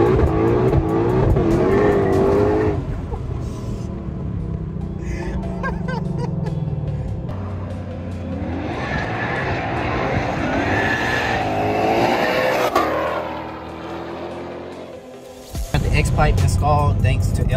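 Ford GT500 revving through a new X-pipe exhaust, loud raspy engine roars rising and falling close by, with brief lulls and a sharp final blip, people speaking and laughing over it.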